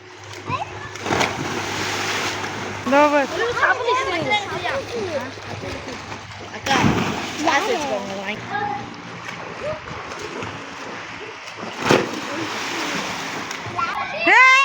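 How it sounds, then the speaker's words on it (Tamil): Several people leap into a water-filled well, the loud splashes and churning water ringing out among excited voices and children talking, with repeated plunges and a sharp splash near the end. "இதான் கிணறு. இப்போ வந்து குதிக்க போகிறாங்க."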